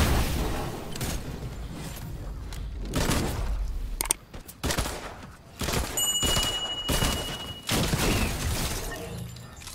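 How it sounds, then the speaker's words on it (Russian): In a video game, a gasoline canister explodes: several loud bursts and shattering crashes go off in quick succession, with thuds and brief quiet gaps between blasts. "взрываем канистру с бензином"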